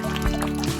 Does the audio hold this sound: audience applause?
no